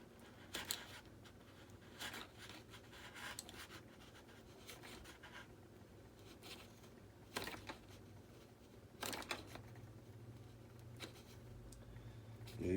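A knife blade cuts into foam on a Freewing SU-35 model jet during a ring-burner installation: faint, sparse scratchy scraping with a few sharper rasps over a quiet background.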